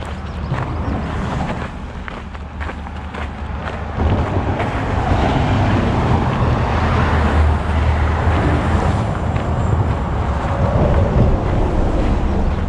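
Road traffic passes a hiker on the Appalachian Trail as a steady, loud roar of cars rushing by, with a louder swell midway, mixed with wind buffeting the microphone.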